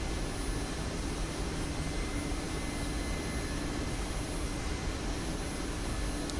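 A Mi-8 helicopter in the DCS flight game flies along, its engine and rotor making a steady, broad whooshing drone at moderate level with a faint high whine, unbroken and without voices.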